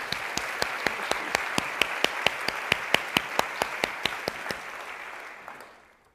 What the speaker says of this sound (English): let me just ask everyone to join me in a round of applause for Melanie